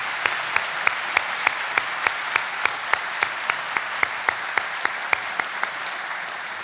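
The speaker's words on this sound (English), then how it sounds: "Please join me in a round of applause for all those at Teen Challenge that made today possible." An audience at a chamber of commerce annual meeting claps together, a dense steady wash of applause with sharper individual claps ticking through it, sustained and fairly loud.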